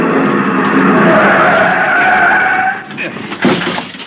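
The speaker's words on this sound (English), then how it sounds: "The other driver had jammed on his brakes and finally skidded to a stop against the curb." A car brakes hard in an old-time radio drama sound effect, its tires screeching loudly and continuously before the skid ends against a curb, followed by a brief clatter and rumble.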